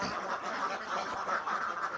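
A flock of egg-laying ducks quacks continuously in a dense, overlapping chorus, steady and fairly close, with no talking.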